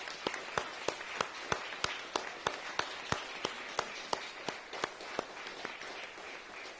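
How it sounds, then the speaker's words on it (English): Church congregation applauding after First Holy Communion at a Palm Sunday service, sparse steady claps with sharp individual hand strikes standing out in a regular rhythm, moderately loud and without voices. "Let's give them a round of applause."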